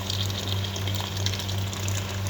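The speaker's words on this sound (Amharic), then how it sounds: "ውሃ እንከልሰዋለን እስከሚበቃ ድረስ ለመኮሮን" Water pours into a cooking pot for macaroni, a steady, loud rushing gush with a low hum underneath and no speech.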